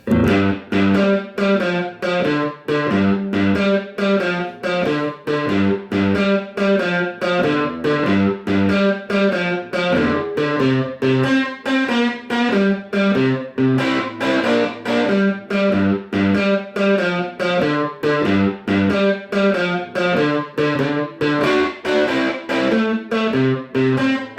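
A distorted electric guitar plays a repeating Texas blues shuffle lick with a steady, driving rhythm, loud and close throughout.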